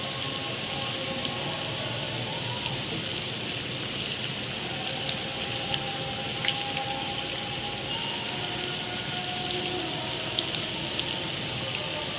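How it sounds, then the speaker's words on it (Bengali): Chicken pieces deep frying in hot oil over medium-low heat, a steady dense crackling hiss with faint pops running evenly throughout, no voices. "তেল গরম হতে দিয়েছি, ডুবো তেলে এটা ভেজে নিতে হবে"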